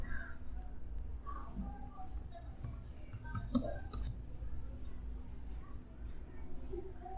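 A few quiet computer mouse clicks land sparsely over a soft background hum at a desk while logging into a WordPress dashboard.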